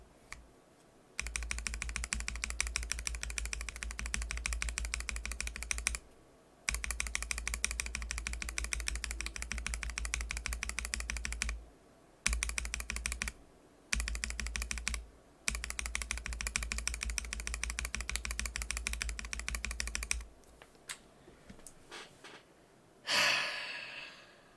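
Mechanical keyboard fitted with NovelKeys BOX Cream switches and keycaps, typed on in long steady bursts of dense, close clacking separated by short pauses.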